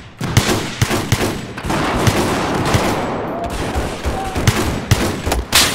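Dense, near gunfire from Battlefield 4 during a large conquest match, continuous rapid automatic bursts with sharp individual shots, loud and nearly unbroken across the whole span.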